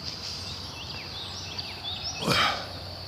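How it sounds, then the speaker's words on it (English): Several birds call and chirp softly outdoors, mostly short high notes, with a brief louder rustle or burst near the end against a quiet hum. "Can you hear all the birds?"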